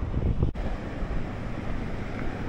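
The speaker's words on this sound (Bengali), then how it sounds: "ঝাউবনে আসতেই সি বিচের গর্জন শোনা যাচ্ছে" Rough sea surf rolls in at Bagda beach in a continuous low roar, heavily mixed with wind buffeting the microphone, with no voices present.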